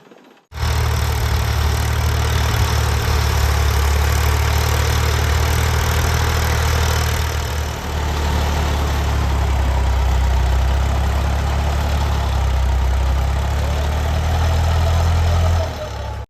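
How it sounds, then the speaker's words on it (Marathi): A tractor engine runs loudly and close by in a village, holding a steady low rumbling idle for about fifteen seconds with a brief dip midway before cutting off, with no speech over it. "ट्रॅक्टरच चाललाय निघून"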